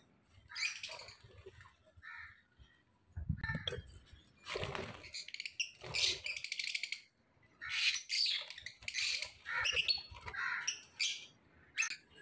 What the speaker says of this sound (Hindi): ये है यहाँ पे मास्टर केज बना हुआ, जहाँ पे मुख्तलिफ़ किस्म के तोते मौजूद हैं।